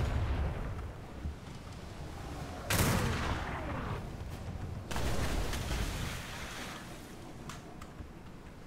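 Heavy ship cannon shots in a video game go off at intervals, two big blasts standing out, with rumbling echoes and smaller bangs between them.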